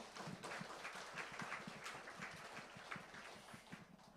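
An audience applauds at Dongmyung University's 45th founding anniversary ceremony: a steady, faint, distant wash of many hands clapping, continuous throughout with no talking over it.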